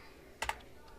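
Numbers are typed on a computer keyboard while shaping a rocket part in Tinkercad, giving two quick close keystroke clicks and a faint third over quiet background.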